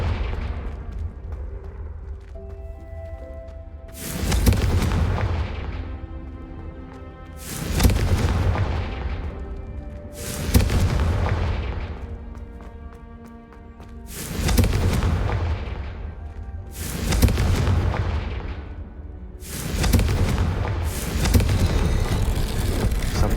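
Repeated booming blasts from the Confringo fire spell in Hogwarts Legacy, about seven loud explosions every few seconds, each with a long decaying rumble over a sustained low game ambience.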